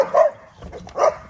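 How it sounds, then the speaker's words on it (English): A puppy under a year old gives two short yappy barks with a faint whimpering tone between them, close and fairly loud, with no talking. "This is a puppy, not even a year old."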